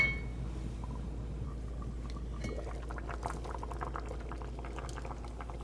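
A pot of creamy white chicken chili bubbling steadily on the stove, with a low continuous rumble and scattered soft pops and glassy clinks that grow busier toward the end.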